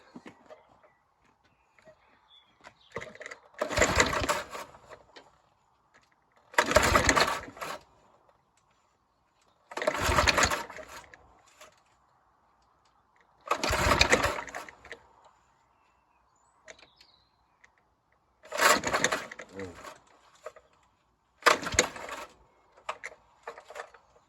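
Someone repeatedly yanks the pull cord of a Briggs and Stratton petrol lawnmower engine that will not start, six or seven separate rasping pulls spaced a few seconds apart, close by, with quiet gaps between.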